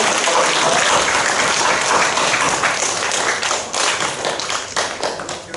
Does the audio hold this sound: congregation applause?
yes